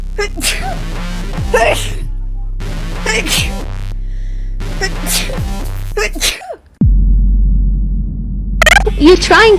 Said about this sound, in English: I can't control my sneezes. It just come out so loud.